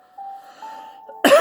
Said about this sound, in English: Excuse me while I cough.